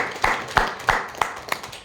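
Audience at a speakers forum meeting applauding: a short, thin patter of claps from a small group, fairly close and fading quickly.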